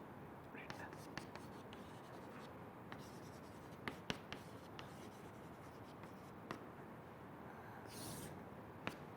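Pen or chalk scratches out a note during a lecture in a quiet room, with short irregular strokes and taps at close range and a faint rustle toward the end.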